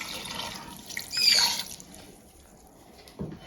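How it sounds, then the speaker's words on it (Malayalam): A cup of water is poured into a pan of seasoned beef being cooked Kerala style, a brief splashing pour rising and fading, followed later by a small clink. "ഇതിലേക്ക് നമുക്ക് 1 കപ്പ് വെള്ളം ഒഴിക്കാം കേട്ടോ"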